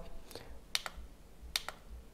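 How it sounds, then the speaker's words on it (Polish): A breathalyzer's left button is pressed to call up recent results, giving a few quiet, sharp clicks in two close pairs about a second apart, heard near and alone. "tutaj klikając sobie w ten lewy przycisk, możemy sobie kliknąć ostatnie wyniki"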